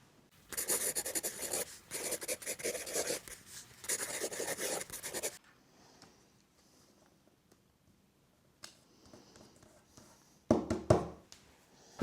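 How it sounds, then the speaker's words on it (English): Pen writing addresses on envelopes: close, quiet scratching strokes in several bursts, then a pause with faint rustles and a sharper final scribble. "write the addresses"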